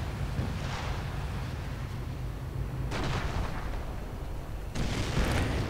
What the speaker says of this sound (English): The rockets are firing.